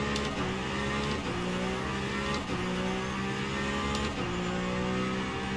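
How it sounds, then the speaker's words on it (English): A Peugeot 9X8 hypercar races around the Spa circuit in a racing video game, its engine droning loudly and rising in pitch through repeated surges as it speeds past, with no voices. "the Peugeot that just passed us"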